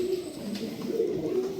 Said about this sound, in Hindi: कलांजी कबूतर है जी रामपुर का, और उम्र दराज कबूतर है ये भी